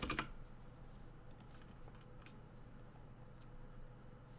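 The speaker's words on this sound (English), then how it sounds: "I'm guessing you're typing in staff chat, Foot." A computer keyboard clicks with a few light, scattered keystrokes, faint and distant against a low hum, with no talking.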